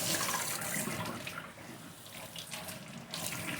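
Tap water runs steadily and splashes over a mid-century wooden tray being rinsed at a sink, a continuous close rushing flow with small shifts in splatter as the tray moves under the stream.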